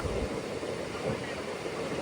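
MEMU train running between Yelamanchili and Narasingapalli stations, a steady rolling rumble with wind-like noise, loud and continuous for the whole short stretch.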